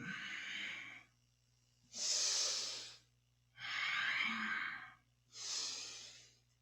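Slow, deep breaths during a Kundalini yoga kriya, four long airy inhales and exhales about a second and a half each with quiet gaps between, close and clear with no talking.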